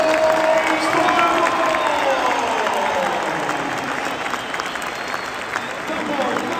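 A football stadium crowd at a Celtic testimonial match applauds and cheers in a dense, sustained roar that fades slightly toward the end, with an announcer's voice briefly heard over it.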